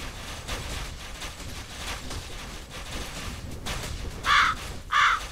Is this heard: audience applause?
no